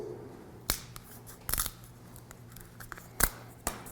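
A wooden mixing stick snapped during tiki-style painting and masking work, heard as a few sharp, close cracks spread across a quiet stretch with faint background noise.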